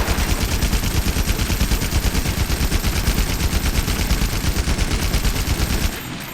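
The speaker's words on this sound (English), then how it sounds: "Gatling Fire looks a little something like this." Gatling Fire from a heavy bowgun in the video game Monster Hunter World, a loud rapid stream of machine-gun shots with an even rhythm that holds for about six seconds and then stops abruptly.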